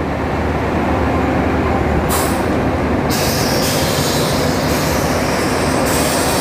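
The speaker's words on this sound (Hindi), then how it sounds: "ये लगी हुई है शताब्दी, अमृतसर शताब्दी एक्सप्रेस से मुलाकात हो गई।" The Amritsar Shatabdi Express at Ludhiana Junction fills the station with a steady loud rumble of rolling stock, wheel noise and a brief high squeal of wheels on rail.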